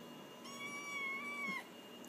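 A kitten mews once, a single drawn-out, fairly faint meow about a second long that rises and then trails off, heard alone against a quiet room.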